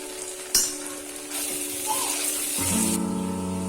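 Ginger garlic paste and green chili paste fry and sizzle in a pan while being stirred, with a sharp utensil clink early on and a steady hiss that swells partway through, close and moderately loud.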